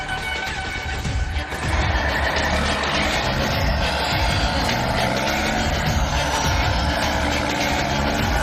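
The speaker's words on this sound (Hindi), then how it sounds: "आवाज तो आ रही है जंगल में, जैसे ट्रक आ रहे हैं कोई" Heavy trucks rumbling through a forest at night, a steady, loud low engine drone that holds without a break, with no talk over it.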